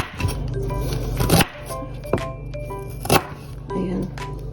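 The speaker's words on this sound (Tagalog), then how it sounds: "hiwain ko muna yung ginger" A knife slices fresh ginger on a cutting board in a home kitchen, a few separate sharp chops close up, with steady background hum and faint movement between strokes.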